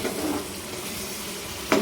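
Chicken Majestic gravy with soy sauce being stirred in a pan, a soft continuous scraping and sizzling texture with a sharper clink of the utensil near the end.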